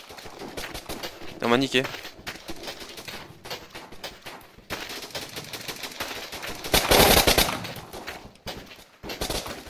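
Bursts of rapid automatic gunfire from the blocky online shooter game Blockpost crackle in loud volleys, with one dense burst near the middle, while a player talks over the action.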